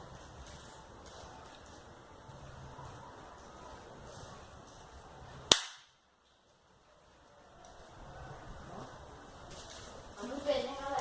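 An airsoft gun is fired once at a target roughly five metres away, producing a single sharp, brief crack between stretches of casual talk and background murmur.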